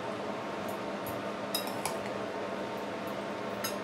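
Broccoli and mung sprout salad is tossed in a bowl, giving a few light clinks of a utensil against the dish over a soft steady background hiss.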